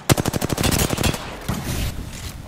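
Automatic gunfire in a shooting video game, a rapid burst of evenly spaced loud shots that ends abruptly and gives way to a couple of duller, more distant bursts.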